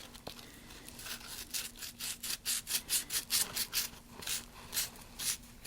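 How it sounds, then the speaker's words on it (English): Sandpaper of around 80 or 120 grit rubs along the edge of a wood blank in repeated back-and-forth strokes, a rhythmic raspy scratching up close with brief pauses. "I can come in with a bit of sandpaper."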